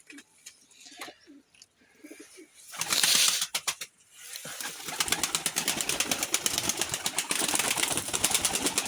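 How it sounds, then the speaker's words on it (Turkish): A smoky, speckled pigeon coos in soft repeated calls, followed by a burst of wing flapping and rustling close by, with no talking. "Güzel kuş çıkmış arkadaşlar."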